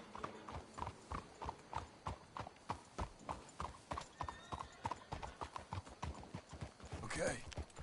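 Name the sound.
horses' hooves clip-clopping in Red Dead Redemption II video game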